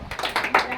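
Children clap their hands during a rhythmic action game, a quick run of several close claps in under a second.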